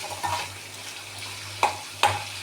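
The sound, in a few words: dried anchovy fish frying and being stirred in a pan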